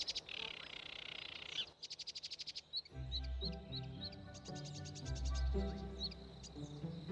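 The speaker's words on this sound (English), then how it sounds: "小鸟们叫得多开心啊！" Small birds sing and chirp in a sunlit natural setting, with rapid high trills and scattered tweets over steady ambient background, some louder layered sounds joining midway.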